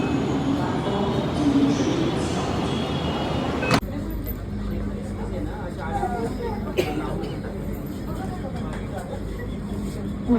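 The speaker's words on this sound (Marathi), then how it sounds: "एक ट्रेन झाली. दुसऱ्या ट्रेनमध्ये चाललो आहे." Underground metro train ride, a loud continuous rumble and roar inside the moving carriage with a sharp change in tone partway through, under people talking.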